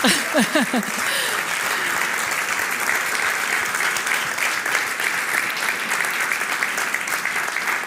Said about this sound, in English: you can start applauding again